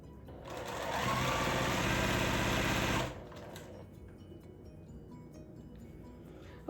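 A sewing machine stitches quilt block pieces in one steady, close whirring run of about two seconds, then stops, leaving quiet room sound.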